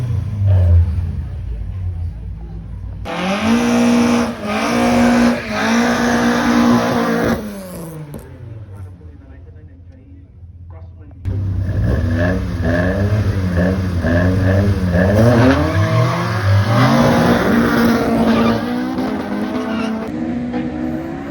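Drag racing cars, including a black Ford Escort, accelerate hard down the strip in two loud runs with rising engine pitch, the first from about 3 to 7 seconds and the second from about 11 seconds to the end, separated by a quieter gap.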